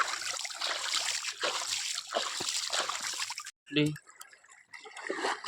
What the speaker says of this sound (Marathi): मी टाकलं म्हशीवर पाणी